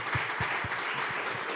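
A congregation claps during a church sermon, a rhythmic, fairly faint patter of hands in an even beat across a second and a half.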